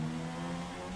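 Race car engine in the F1 2016 video game at Spa holds a steady, loud mid-pitched drone with a constant tone for one second, heard alone without talk.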